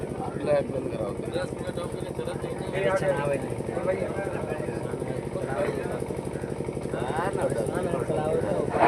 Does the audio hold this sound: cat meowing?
no